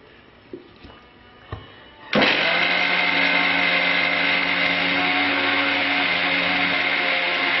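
An electric mixer grinder grinding moong dal for ladoo switches on after a few soft clicks and knocks, then runs with a loud, steady, high whirring roar until the end, with no voices.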